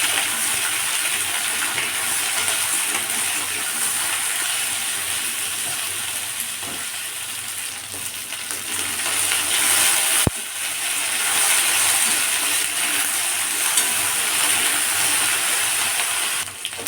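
Diced potatoes and pointed gourd frying in a pan with bay leaf and dried chilli, a loud, steady sizzle with a bright hiss that continues unbroken throughout.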